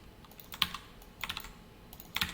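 Code typed on a computer keyboard during a JavaScript and jQuery lesson: three short bursts of quick keystrokes separated by pauses, close and clear with no talking.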